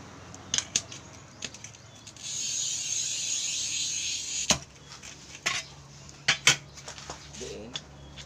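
A glass cutter with an oil reservoir scoring and snapping a sheet of glass: a steady scratchy hiss for a couple of seconds, followed by sharp clicks and taps as the pane is worked and broken.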